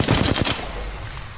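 Shotgun fire in the video game Apex Legends: a loud, rapid burst of several close blasts in quick succession, followed by a short fading reverberant tail.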